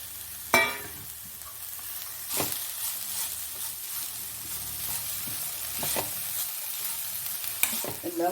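Greens for a Kerala pathila thoran, a dish of ten kinds of leaves, stirred and fried uncovered in a pan, giving a steady soft sizzle with sharp scraping stirs at intervals and one loud knock near the start.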